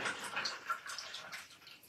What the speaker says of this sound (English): I'm going to rinse that brush out,